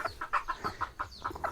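A mother hen clucks close by in a quick, even series of about ten short clucks over a quiet background.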